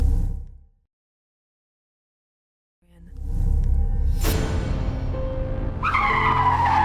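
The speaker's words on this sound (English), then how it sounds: "There was a car speeding down, out of control. Before he even realized, it crashed into one of the trees and flipped over near the edge." A car speeding out of control, skidding and crashing into a tree before flipping over near the edge of a wooded road, as an animated story sound effect. Silence first, then loud tire skidding that builds into a crash, with a high screech at the end.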